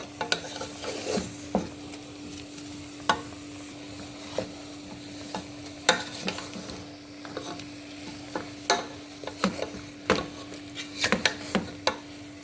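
Irregular scraping and clinking strokes of a spoon stirring nkwobi with cow skin in a pot, with a soft sizzle running underneath throughout.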